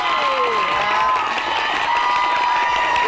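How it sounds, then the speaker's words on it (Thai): A crowd of fans screams and cheers loudly and continuously at a live fan event for a singer at A-PORT, a dense, sustained high-pitched roar with no pause. "ทำไมถึงแฟนคลับต้องกรี๊ดดังขนาดนี้"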